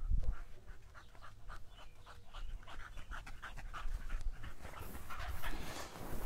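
A dog panting close by in rapid, rhythmic breaths that continue steadily throughout, with faint shuffling movement in the background.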